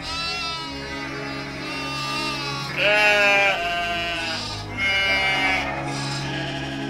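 A flock of sheep in a cartoon bleats on a hill, several wavering, overlapping calls rising and falling over a steady background, with one louder bleat in the middle and another near the end.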